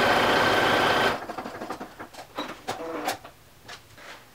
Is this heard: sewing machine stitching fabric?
yes